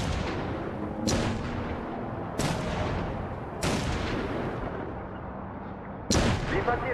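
Rifle shots fired at a rooftop sniper in The Saboteur video game, four sharp loud reports spaced a second or more apart, each trailing off into rumbling echo over continuous background game noise.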